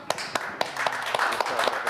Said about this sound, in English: oh, you could clap